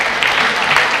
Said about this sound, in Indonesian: Kita beri tepuk tangan untuk Bapak Sudwi.